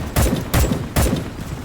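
Three sharp, loud rifle shots in the video game Starship Troopers: Extermination ring out in quick succession, each followed by a short echoing tail.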